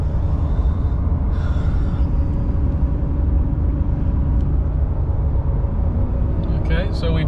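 A RAM 2500 with the 6.4 HEMI and 8-speed automatic climbs a grade while towing, its engine holding a steady, loud low drone with road rumble throughout; a brief higher whine rises near the end.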